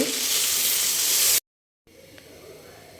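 A loud, bright sizzle of broken rice frying in a hot pan, then a brief cut and a softer, quieter hiss afterward.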